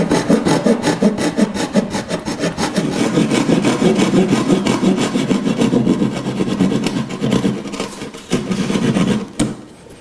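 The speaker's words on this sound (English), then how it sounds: "I'm going to complete it with the handsaw, creating a kind of a cradle within which the trim is going to fit later" A handsaw cuts a notch into a wooden door stile with rapid, loud, rasping back-and-forth strokes close by, running continuously for about nine seconds before stopping.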